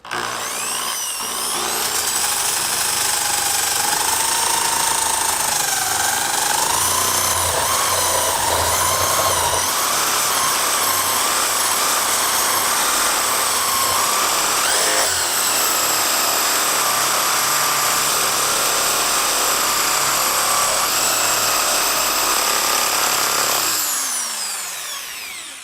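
A power sander with 80-grit sandpaper whines steadily and loudly for about twenty-three seconds, its pitch wavering slightly as it grinds paint off metal, then winds down.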